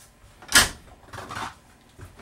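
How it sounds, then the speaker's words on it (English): A positive-latch door on a 12-volt refrigerator inside a 2020 KZ RV Connect C271BHK lightweight travel trailer clicks shut with a sharp snap, followed by softer knocks and a faint rattle. "Actually has a positive latch door system to keep it closed."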